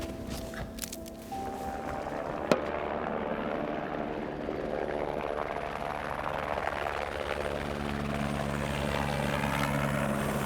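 Large helicopter near a mountain hut in winter, a loud steady rotor and engine roar with rhythmic blade chop, close and continuous.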